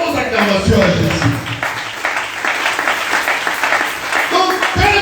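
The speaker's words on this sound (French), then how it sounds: "Est-ce qu'on peut donner de bonnes acclamations à Jésus?" Congregation applause and acclamation at a church service, a dense, loud wash of clapping with cheering voices mixed in throughout, continuing steadily with a brief swell near the end.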